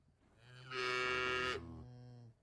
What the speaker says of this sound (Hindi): गोपाल भैंसों को चराने ले जाता है